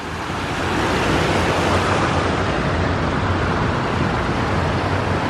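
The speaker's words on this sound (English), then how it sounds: "Some more rapids type waterfall." Rushing river rapids along the Pueblo, Colorado Riverwalk make a steady, loud broadband roar of churning water, continuous and close, with no voices.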